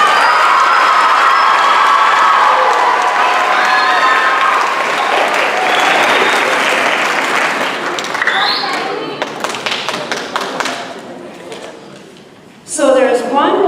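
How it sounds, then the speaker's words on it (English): Loud, sustained audience applause at a graduation ceremony, a dense wall of clapping that thins into scattered claps and then fades before a brief burst of cheering and voices at the end. "Please give him a really good round of applause."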